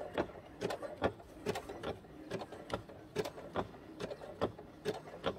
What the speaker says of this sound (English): I'm going to hold it like so and continue stitching